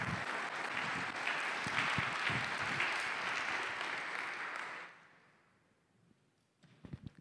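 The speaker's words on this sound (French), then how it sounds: "On l'applaudit bien fort." An audience at a digital-inclusion launch event in Haute-Garonne breaks into loud, sustained applause that cuts off abruptly after about five seconds, leaving near silence and then a few soft thumps.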